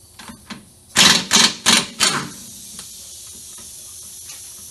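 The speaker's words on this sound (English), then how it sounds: "the front two bolts, which I always use an impact on, just because you can get an impact to them" An impact wrench works the front differential bolts of an R33 Skyline, giving four short, loud rattling bursts in quick succession, then quiet workshop background.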